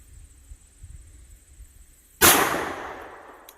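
A single sharp 9mm shot from a Glock 26 pistol with a 3.42 inch barrel, one loud crack after a quiet lead-in, followed by a decaying outdoor echo.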